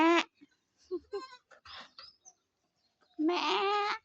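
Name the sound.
male goats bleating on a farm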